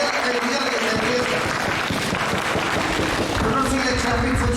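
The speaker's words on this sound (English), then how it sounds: "the clapping was so nice, I love it" A church congregation applauds during a sermon, dense steady clapping filling the room at a constant level for several seconds, no voice rising above it.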